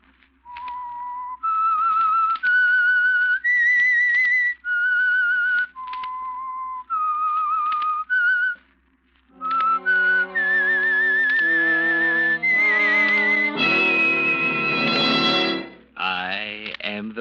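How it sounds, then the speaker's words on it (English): A clear, melodic whistled tune of sustained notes, the theme of the 1945 radio show The Whistler, then a brief pause, followed by the same melody swelling with a fuller, distorted, echoing accompaniment. "That whistle is your signal for the Signal Oil Program,"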